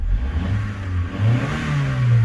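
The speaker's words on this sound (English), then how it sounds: "we can give the throttle a little blip" A Rover 620SLi engine idles then gets brief throttle blips, rising in pitch smoothly and settling back, close and fairly loud.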